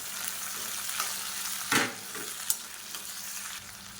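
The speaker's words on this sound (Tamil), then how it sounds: "மீடியம் சைஸாக ஒரு 2 தக்காளி சேர்த்துக்கலாம். சேர்த்துட்டு இதையும் நல்லா வதக்கிக்கலாம்." Tomatoes and onions sauté in a pan for kollu sambar with a continuous close sizzle, while a stirring scrape bursts out near the middle and a sharp tap follows shortly after.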